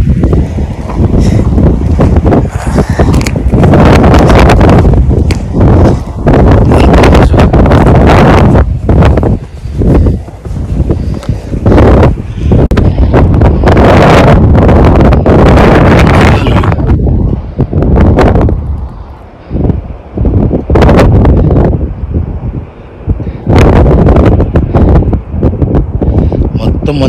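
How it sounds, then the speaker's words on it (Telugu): Strong, cold headwind in snowy conditions buffets the microphone with loud, continuous roaring gusts that rise and dip throughout, while someone talks underneath. "మొత్తం ఎదురుగాలులు చూసారా, చలి"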